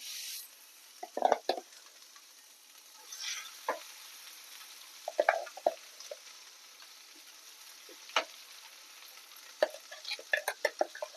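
Ground ridge gourd peel chutney goes into a hot tempering in a pan, giving a faint sizzle with scattered clinks and scrapes from a spoon stirring against the metal.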